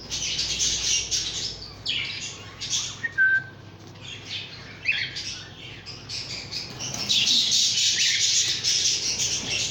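A male budgerigar chatters and calls toward a nest in a breeding aviary, a busy stream of high warbling chirps, squawks and whistles, close and continuous with no talk.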